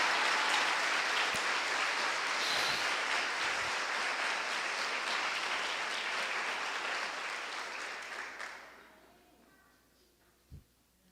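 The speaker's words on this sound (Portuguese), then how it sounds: "Aplauda, por favor, meu irmão!" Sustained applause from a Catholic congregation at Mass, a dense wash of clapping that stays steady for several seconds, then thins and fades out, leaving near silence with one faint knock.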